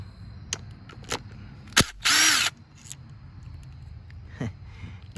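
A power drill with a hex bit briefly whirs as it backs a rusty screw out of a Honda Magna 750 bikini fairing bracket, one short burst of close, loud drilling between a few scattered clicks and handling knocks.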